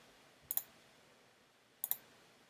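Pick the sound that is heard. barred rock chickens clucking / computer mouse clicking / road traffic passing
computer mouse clicking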